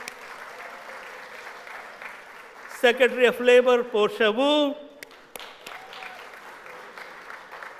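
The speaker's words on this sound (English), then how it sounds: "give her a round of applause" An audience at an Asian American Heritage Month event applauds in a soft, fading wash that sits beneath a voice announcing names.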